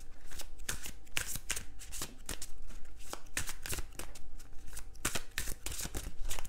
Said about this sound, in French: donc je les remets dans le paquet, je continue le mélange.